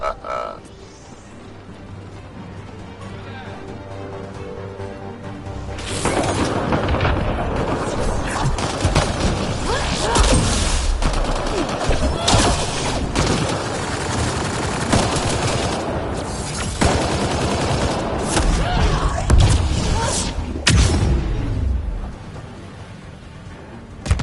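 Sustained gunfire in Mass Effect Andromeda, loud and dense, with rapid bursts and heavy impacts running for about fifteen seconds and characters talking in between.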